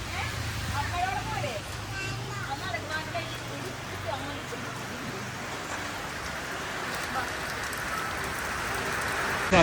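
Steady rain falls on a school morning, a dense, even patter on surfaces that holds through the whole stretch while voices murmur underneath.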